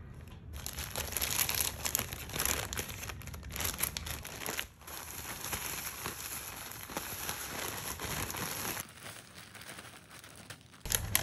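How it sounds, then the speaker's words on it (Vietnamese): Parchment paper pressed into the base of a cake pan while making a lychee cheesecake, with close, continuous crinkling and rustling lasting about ten seconds and no talking. "Lót giấy nến dưới đáy khuôn."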